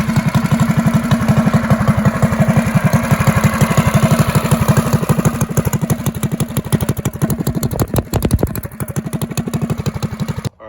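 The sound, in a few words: Predator 212 engine with drag pipe running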